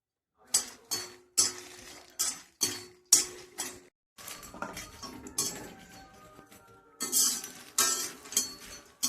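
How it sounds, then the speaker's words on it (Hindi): Makhana (fox nuts) being roasted in a kitchen pan, a series of rhythmic metallic clinks and scrapes from stirring, roughly every half second, close and clear with short pauses and no talking. "एक बाउल हम यहाँ पर मखाना ले रहे हैं, इसे भी हमें भून करके निकाल लेना है।"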